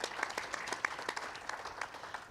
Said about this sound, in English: So let's have a round of applause for Dr.